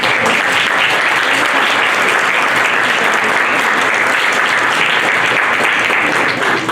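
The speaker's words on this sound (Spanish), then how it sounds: "para quien pido un fuerte aplauso" An audience at a book presentation in a university hall applauds loudly and continuously, a sustained wash of clapping throughout.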